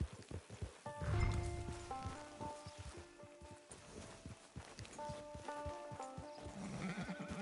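In a video game, a horse whinnies loudly near a camp, then its hooves clip-clop at a walk, with a second neigh later over the steady hoofbeats.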